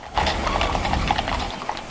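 Hooves of a Cleveland Mounted Police Unit horse clop on hard pavement in a quick, even rhythm, close and distinct, with faint mechanical rattling beneath.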